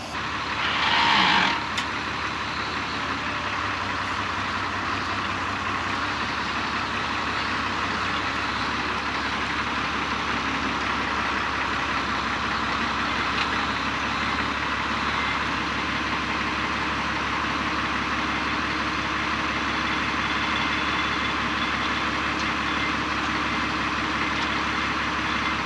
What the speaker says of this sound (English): Let's get this tractor backed in here and hooked up.